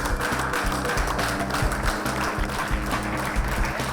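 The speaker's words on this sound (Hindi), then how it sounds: "तो तालियों के साथ स्वागत किया जाए।" Sustained audience applause welcomes an ITI assistant training officer as mentor on a televised skills competition show, a dense, steady clatter of many hands that holds at an even level throughout.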